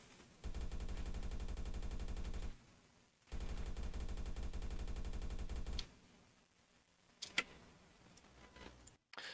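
Rapid, evenly spaced gunfire from a first-person shooter built in Unity with recoil switched off, in two long sustained bursts separated by a short gap, followed by quieter scattered clicks and a couple of sharp isolated shots.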